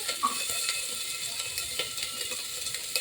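Carrot, beans, chicken and tomato with ginger paste stirred in a pan over low heat, giving a steady soft sizzle with light scraping and clinking of the spoon throughout, no talk.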